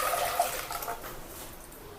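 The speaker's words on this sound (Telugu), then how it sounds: "దీంట్లో వేసుకొని మీ పులుపుకి సరిపడా వాటర్ వేసుకోవాలి" Water pours steadily into tamarind pulp for rasam, a short, soft rushing splash close to the microphone.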